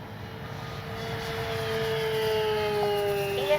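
An E-flite Sportix RC airplane flies at full speed with the wind. A steady high electric motor whine grows gradually louder as the plane approaches over outdoor background noise.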